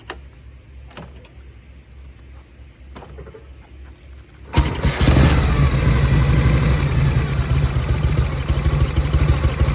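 A 1969 Harley-Davidson FLH motorcycle is kicked over with a few soft thumps, then the engine fires and settles into a loud, steady, loping idle close by.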